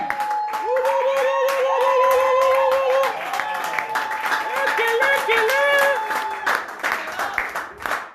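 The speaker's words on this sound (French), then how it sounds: "J'ai dit d'acclamer très bien le Seigneur" A church congregation at an Easter celebration service claps and acclaims loudly, with sustained applause and cheering voices, while a voice or singing carries over the crowd throughout.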